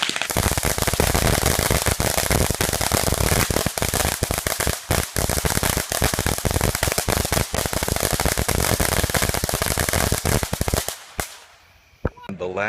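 Independence Day fireworks display with a dense, continuous barrage of crackling bursts and rapid pops for about eleven seconds, loud and close, before dropping suddenly to quieter scattered sounds at the end.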